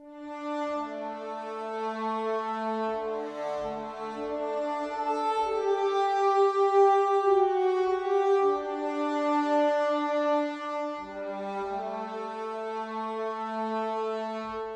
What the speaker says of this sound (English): So if I go into the symphonic horns, I'm using the A6 horns, and it's the longs, and you can see I'm using just the close mic.